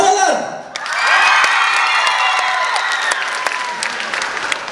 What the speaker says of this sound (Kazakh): Қазір мен ақтар деген кезде сіздер шапалақ ұрасыздар, қаралар деген кезде ұрмай қойысыздар.